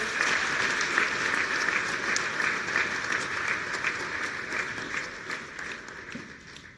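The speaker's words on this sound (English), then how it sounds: "let's give the GP one more round of applause" Round of applause for a speaker at a South African government launch event, steady crowd clapping that gradually tapers off toward the end.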